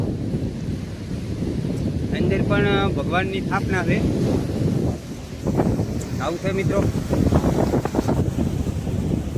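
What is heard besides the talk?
sea waves and wind at the seashore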